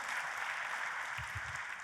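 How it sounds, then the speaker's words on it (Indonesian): Church congregation applauding for God during a sermon, a soft, steady wash of distant clapping for a brief moment without speech. "Tepuk tangannya yang paling meriah buat Tuhan kita."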